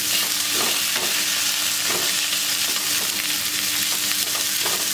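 Cooked chicken is stirred into a sizzling frying-pan mixture, with loud steady frying and repeated scraping strokes of the spoon close up.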